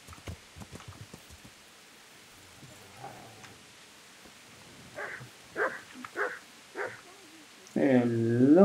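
A dog in the medieval world of Kingdom Come Deliverance barks a few times at middle distance, with a louder, drawn-out bark or howl at the end over soft ambient noise.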